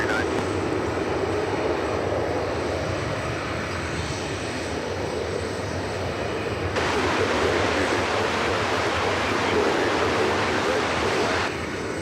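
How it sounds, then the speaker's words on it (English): American Airlines jet touching down at DFW Airport, a steady loud broadband roar of engines and rushing air that swells midway and holds for the whole stretch, no voices over it. "That's American Flight 2788, touching down from Colorado Springs"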